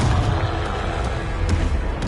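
Confringo spell explosion in the Hogwarts Legacy video game, a loud booming blast with a rumbling low roar through a short burst and no talk.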